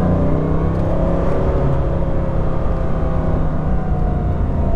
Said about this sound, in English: You can hear the turbochargers working. You can hear the wastegate noise coming out of the exhaust.